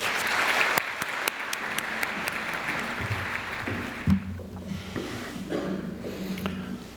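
An audience claps to welcome lecturer David Wellbery to a talk on Faust, steady full-room applause with sharp individual claps that thins out and fades to scattered sounds after a few seconds.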